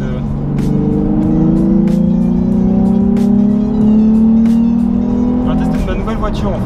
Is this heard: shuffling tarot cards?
no